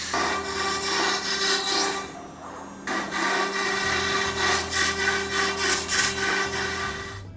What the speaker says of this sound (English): Our panel saw is used to cut sheet goods down in size by making either vertical or horizontal cuts in materials such as plywood, MDF, or chipboard.